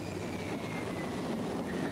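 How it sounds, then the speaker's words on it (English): A Class 50 diesel locomotive assists an HST on the steep gradients of the Plymouth line near Exeter, giving a steady, fairly distant rumbling engine and rail drone throughout. "Class 50 helps an HST towards Plymouth."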